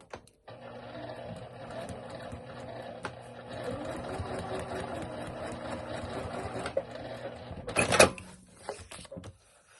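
A sewing machine stitches steadily along a seam line in a workshop, a continuous close mechanical whir lasting several seconds, ending with a brief louder clatter as it backstitches and stops.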